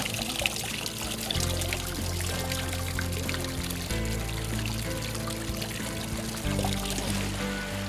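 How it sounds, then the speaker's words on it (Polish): Hot spring water pours and trickles steadily and continuously straight from the ground in a Japanese hot valley, a close, bubbling flow with no voices. "gorąca woda, która wycieka prosto z ziemi."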